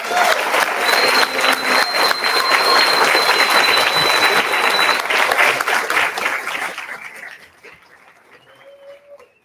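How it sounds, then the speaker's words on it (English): A round of applause from an audience honouring all 12 competing teams at a demo day, dense and loud clapping for several seconds before fading out into quieter room noise. "So give a round of applause to everyone."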